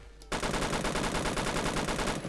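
A G3 battle rifle fires a sustained rapid burst in Roblox Phantom Forces, the shots coming loud and close in a steady, fast rhythm for about two seconds after a brief quiet lead-in.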